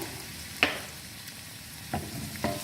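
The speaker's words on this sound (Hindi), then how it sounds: "थोड़ा सा मिक्स करेंगे इसको अच्छा सा लो फ्लेम पे।" Chopped garlic and cumin seeds sizzling softly in hot oil on a low flame, with a faint steady fry broken by a few brief scrapes of stirring.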